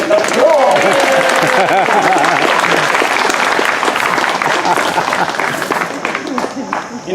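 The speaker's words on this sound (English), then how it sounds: "Once again, applaud that one." Sustained, dense audience applause at a Pennsylvania Renaissance Festival poetry show, loud and steady clapping from a crowd with scattered voices, tapering slightly near the end.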